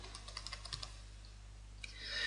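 Typing on a computer keyboard while naming a new folder, a quick run of light key clicks followed by a pause and a final key press, close and fairly quiet over a steady low hum.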